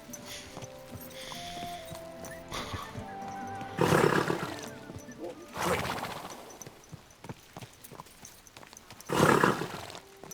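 A horse in the medieval game Kingdom Come: Deliverance II gives loud whinnies and snorting bursts, three strong calls spaced a few seconds apart over quiet hoof and ambient game sounds.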